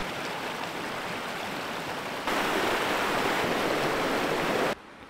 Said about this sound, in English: You probably can't hear me because of the rushing water, but what a cool little rapid.